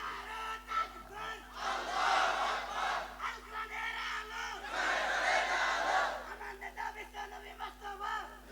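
A large crowd at a political rally answering a takbir call with a loud, unified chant of Allahu Akbar. The chant rises in two big swells with voices roaring together, and a lone amplified voice can be heard between them.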